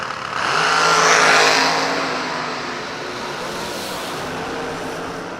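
Dragsters launching down a drag strip at a New Year race event: a loud engine roar that swells quickly, peaks, then recedes into a steady distant drone.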